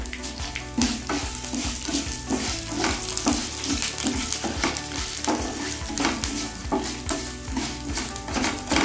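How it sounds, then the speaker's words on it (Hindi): Red chillies, curry leaves and tamarind dry roasting in a pan give a steady, close crackle and sizzle with regular scraping stirs throughout, with no talking. "बस ये रोस्ट हो गया, इसको निकाल लें।"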